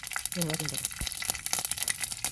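Mustard seeds sizzle and crackle in hot oil for a prawn roast, a close, continuous fizz with small pops throughout, and a voice briefly heard over it.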